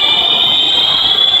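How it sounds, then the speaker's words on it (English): Fire alarms sounding inside the Holyoke Mall in Holyoke, Massachusetts, a loud, steady high-pitched electronic tone ringing continuously over reverberant indoor background noise. "these fire alarms are so fucking loud. And you can still hear them going off"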